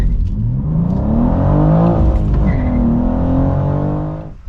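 Loud engine of a 2023 BMW M2 revving up close, the pitch sweeping upward then falling back and climbing again in a sustained roar before cutting off sharply.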